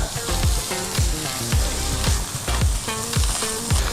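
Fish frying in a pan coated with a little brushed-on oil, a steady close sizzle with repeated clattering knocks of a utensil against the pan throughout.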